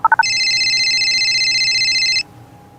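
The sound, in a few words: telephone ringing, storybook sound effect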